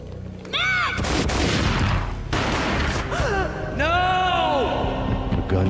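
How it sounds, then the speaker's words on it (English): Gunfire in the video game Max Payne: a loud burst of booming shots followed by more blasts and wailing, swooping tones, with a dense, noisy mix throughout. "A gunshot boomed and she fell down in slow motion."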